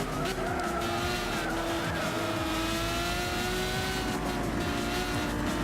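A touring car races in Gran Turismo 6, its engine droning loudly and continuously with shifting pitch, tire squeal and other cars close by in a dense racing mix.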